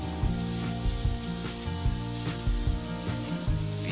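Garlic frying in a pan of oil for a martabak egg sauce, giving a close, dense sizzle with soft rhythmic stirring thumps about every half second over a low steady hum, no voices.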